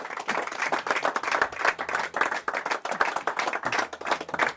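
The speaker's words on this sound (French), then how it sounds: "Sous les applaudissements, venez vers moi." An audience at a mentalism show claps as a volunteer comes up on stage, a close, lively patter of distinct claps from a modest crowd, steady for several seconds without talk.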